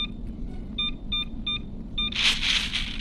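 Checkout scanner in a convenience store horror video game emits a series of short, evenly spaced electronic beeps, then a brief burst of louder noise toward the end; clear and close with no talking.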